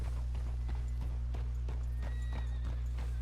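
Horse hooves clip-clop at a steady walking pace in a Red Dead Redemption 2 game town, the rhythmic hoofbeats close and clear over a constant low hum, with no talking.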